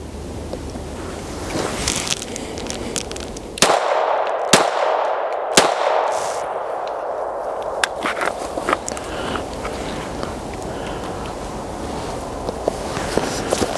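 Unsuppressed standard .22 Long Rifle rounds fired from a Glock 44 pistol, three sharp cracks spaced about a second apart over outdoor background hiss, followed by faint clicks and handling noise.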